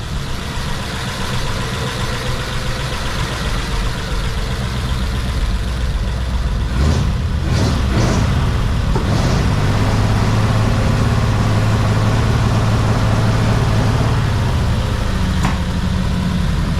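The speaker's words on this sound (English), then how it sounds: "I'll give it a little bit of a rev." A 1940 Mercury engine with a glass pack exhaust and timing trouble idles loudly and close, then revs in several quick blips with a throaty rumble, the sound continuing without speech.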